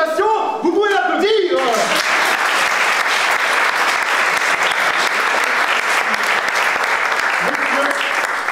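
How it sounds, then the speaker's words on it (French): Audience applause at an amateur theatre show as a bingo winner is announced: a brief voice opens, then dense, loud clapping rises after a second or two and holds steady to the end. "Vous pouvez l'applaudir."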